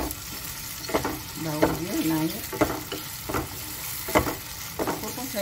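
Lemongrass and pandan leaves sizzle and fry in a pan alongside squid, with a steady crackling hiss and periodic stirring scrapes close by, and a brief spoken word.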